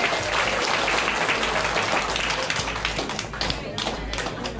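A large audience applauds loudly and steadily for a speaker at a public event, a dense continuous wash of clapping with cheering voices mixed in.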